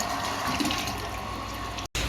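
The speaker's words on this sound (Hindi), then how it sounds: "सब में से पाइप लेके मोटर लगा के भर रहे पीने का पानी" Drinking water from a motor pump rushes through a pipe into a container, a steady, close, broadband gush that runs without a break and cuts out briefly near the end.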